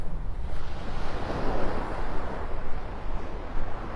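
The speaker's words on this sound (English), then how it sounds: "that wind's picking up right in here" Steady wind and surf roll across the beach at Delnor-Wiggins in Naples, Florida: a continuous loud roar of waves mixed with gusting wind noise buffeting the microphone, with no voices.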